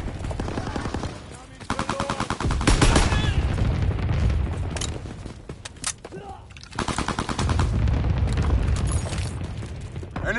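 Anti-aircraft flak fire from a video game battle: loud, rapid bursts of machine-gun fire with heavy booms and explosions, dense and close, easing briefly midway before resuming.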